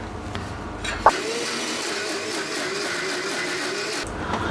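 A mixer grinder grinding ragi dosa batter with added water, a steady whirring motor hum running for about three seconds after a brief clunk, close and fairly loud, with a short pause before it continues.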